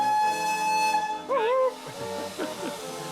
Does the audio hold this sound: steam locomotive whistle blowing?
yes